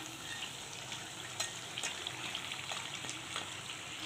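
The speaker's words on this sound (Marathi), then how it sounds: "आपण याला दोन ते तीन मिनटं अजून तळून घेणार आहोत" Chakli spirals deep-frying in hot oil, a faint, steady bubbling crackle with small pops scattered throughout and no voices.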